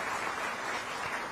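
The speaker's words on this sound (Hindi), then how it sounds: "एक बार करतल धोनी से सब अभिनंदन करें" Audience applauding to welcome the Chief Minister at a public event: a steady, dense wash of clapping throughout, fairly distant and even.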